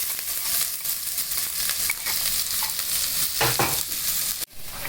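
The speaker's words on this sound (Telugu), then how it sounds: "ఆయిల్ హీట్ అయిన తర్వాత ఉల్లిపాయలు వేసుకుందాం" Onions fry in hot oil in a pan for a Maggi noodle soup, giving a constant close sizzle broken by scraping stirs near the end.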